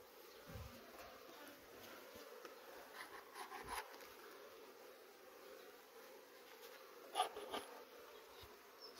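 A soft, steady buzz of many honeybees hovering close by at the hive, with occasional louder passes and small knocks, no talking.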